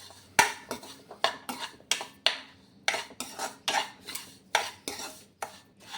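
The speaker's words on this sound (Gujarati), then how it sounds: "હવે આપણે આને ફરીથી એકવાર સરસ શેકી લેવાનું છે ઘી સાથે" Moong dal being stirred and roasted in ghee in a metal pan for ladoo, giving a steady run of close scraping, clinking strokes in an even rhythm with no talking.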